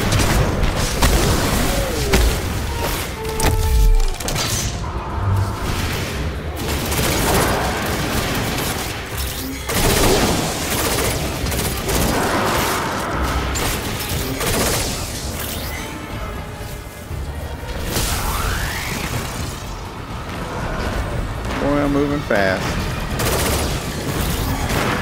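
Repeated shotgun blasts and heavy gunfire ring out during combat in Destiny 2, loud booming shots in irregular bursts amid crashes and mechanical clatter, sustained across the whole stretch.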